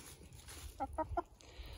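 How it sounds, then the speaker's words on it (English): A backyard chicken near a garden compost area gives three quick, soft clucks in a short burst, faint and somewhat distant against low background noise. "Hey, chicken."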